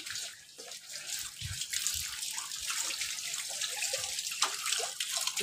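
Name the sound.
storm rainwater pouring down from the rooftop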